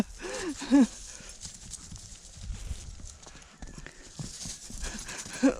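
Hooves clop steadily on the ground nearby, with a couple of high, wavering whines from an animal at the start and end.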